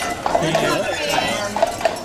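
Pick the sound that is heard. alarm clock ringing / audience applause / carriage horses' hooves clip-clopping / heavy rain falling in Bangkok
carriage horses' hooves clip-clopping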